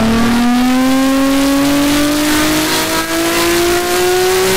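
A heavily modified show car with a big cam revs up close and loud as it leaves for a parade, giving one strong steady engine tone that climbs smoothly in pitch with a lumpy, aggressive rasp, with no talk.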